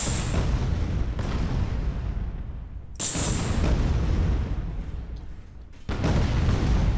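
Rockets launched four at a time in the Space Engineers game burst and explode against a ship, giving loud booming blasts at about 0 s, 3 s and 6 s, each followed by a long rumbling roar, with no voices.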